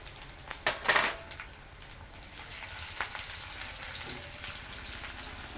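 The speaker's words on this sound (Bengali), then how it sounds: "রসুন কয়টা একটু ভালো মতো ভাজে" Garlic sizzles in hot oil in a pan, giving a steady frying hiss with a few sharp utensil clinks and scrapes near the start, close and fairly quiet, with no talking.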